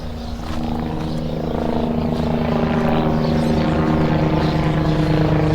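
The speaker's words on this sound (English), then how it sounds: "the border patrol is coming, flying over in a helicopter" A border patrol helicopter drones steadily overhead in the lower Rio Grande Valley, Texas, its rotor throbbing loud and continuous throughout with a strong low hum.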